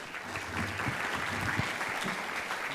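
An audience applauds to welcome a speaker at a health talk, steady clapping from many hands throughout, moderately loud and close.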